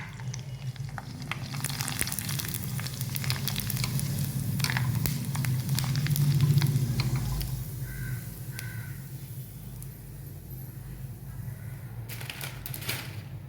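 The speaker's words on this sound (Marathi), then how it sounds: "मी 2 मिनिटांनी अजून एक तळून दाखवतो." Wheat kurdai fries in hot oil with a continuous bubbling sizzle and scattered crackles. Faint bird calls and light clatter sit in the background.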